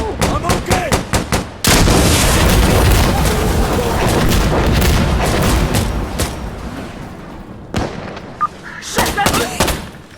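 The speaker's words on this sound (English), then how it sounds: "Throwing grenade!" In the video game Insurgency Sandstorm, a grenade explosion lands as a heavy, close boom with a long rumbling tail, framed by bursts of rapid gunfire before and after.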